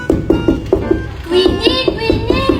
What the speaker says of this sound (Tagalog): Sige Nicole, katukin mo na.